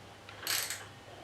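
A socket wrench gives a brief, faint ratcheting rattle while working on the fork damper rod of a Triumph Bonneville T140 during a fork seal job. The quick burst of clicks sounds close against a quiet workshop hum.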